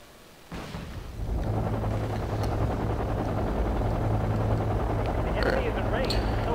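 Helicopter in the military strategy game Wargame Red Dragon, a dense continuous rotor and engine roar that swells in and holds loud, with faint crackles of distant gunfire layered over it.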